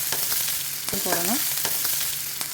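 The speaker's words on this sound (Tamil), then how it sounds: "ஜீரகம், காஞ்ச மிளகா, பச்சை மிளகாவும் கருவேப்பிலையும் போடணும்." Cumin, dried and green chillies and curry leaves sizzle steadily in hot oil for rava idli, with faint stirring taps and a brief squeaky sound midway.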